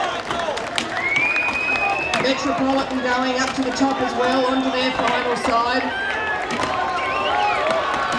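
Crowd shouting and cheering at an inter-association axemen tree felling relay, a loud continuous roar with whistles and calls while an announcer talks over it.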